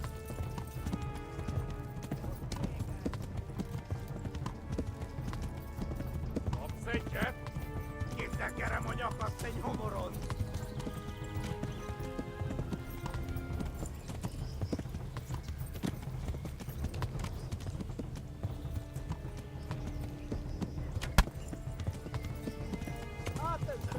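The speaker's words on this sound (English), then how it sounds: "Tô tentando controlar aqui, porque o cavalo tá pregado." Horse hooves gallop in the video game Kingdom Come Deliverance, a fast, continuous clip-clop under game sounds and talking, with a brief neigh.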